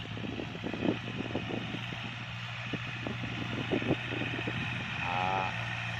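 A Kubota L3218 tractor engine drones steadily while driving through a field to form ridges, a constant low mechanical hum with irregular rattles and clunks layered on top, close and continuous throughout.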